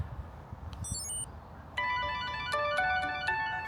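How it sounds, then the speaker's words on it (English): A phone ringtone set off by double-tapping a wallet tracker card: a short chime, a brief pause, then a bright repeating melodic ring, close and clear over quiet room noise. "phone starts ringing."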